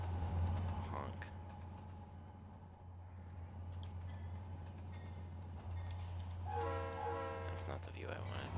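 A train horn sounds in the Trainz railway simulator, a long steady blare running under engine rumble, with a voice talking over part of it.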